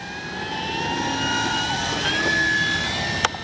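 A Flightline 1600mm P-51D Mustang RC warbird drones steadily through its takeoff run, a sustained engine whine holding at fairly constant loudness with shifting pitch and a brief sharp tick near the end, no one speaking.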